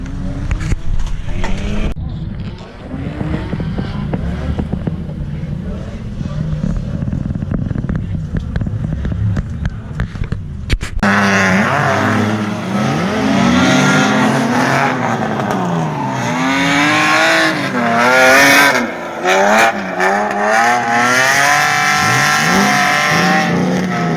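A BMW-engined Volvo 740 is hotlapped around Spirit Peaks Raceway, its engine rising and falling through hard revs and shifts, loud and close, with rougher track noise in the opening stretch.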